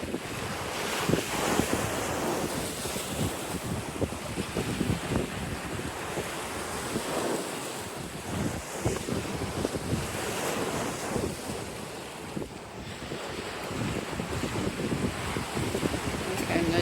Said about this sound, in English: You can see the reef really nicely over there, with the waves breaking over it.